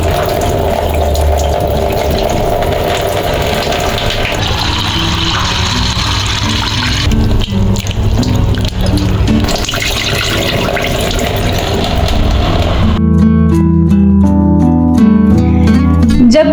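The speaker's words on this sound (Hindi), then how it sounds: "बस इसको ना अच्छे से 2-3 पानी से धोना है दोबारा फिर" Moong and masoor dal are washed under steady running water in a kitchen, with a constant loud splash and gush of tap water that ends in a brief rattle and clink near the end.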